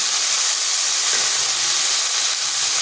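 Potato pieces and yardlong beans fry in a pan with a loud, steady, close sizzle that holds without a break.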